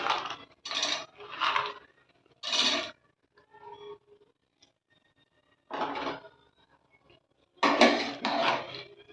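A spoon stirs coconut milk rice and roasted cashews in a metal pot, making several bursts of clattering, scraping strokes separated by near-silent pauses, close and fairly clear.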